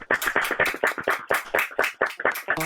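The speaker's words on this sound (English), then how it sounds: "All the fellow musicians here clapping." Fellow musicians clap after a song at a small live music gathering: a handful of close, distinct handclaps in a loose, uneven rhythm, with no talking.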